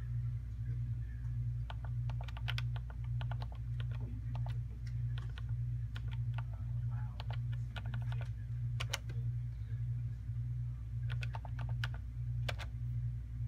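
Keypad presses on a payment terminal as a card number is entered during a manual sale, a series of crisp, irregular clicks and taps over a steady low electrical hum, fairly close and moderately quiet.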